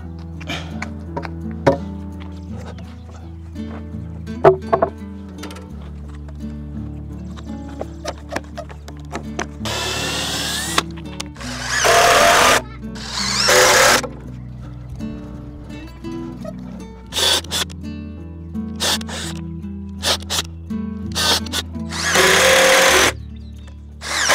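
A power drill drives screws into a wooden frame of 2-inch-thick boards, several separate bursts of motor whine in the second half, each lasting a second or two, close up between rhythmic tapping and clatter.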